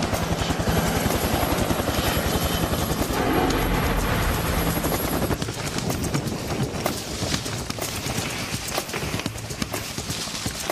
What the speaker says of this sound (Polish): Wyskoczę ze śmigłowca wiszącego tuż nad ziemią tak szybko jak to tylko możliwe